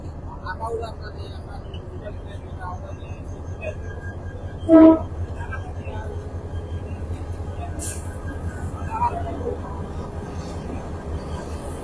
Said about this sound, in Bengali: মগলবাজার স্টেশন ক্রস করছে একটি ট্রেন